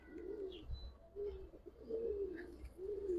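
Pigeons, a Giribaz tumbler and colored pigeon flock kept in Old Dhaka, coo in several low, rolling phrases, fairly close and steady, with no talking.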